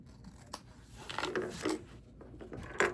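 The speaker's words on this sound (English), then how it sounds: "I'm just going to cut out both pieces at the same time." Scissors snip through two layers of bag lining fabric at once, several quiet crunching cuts in an uneven rhythm, close up with faint handling noise.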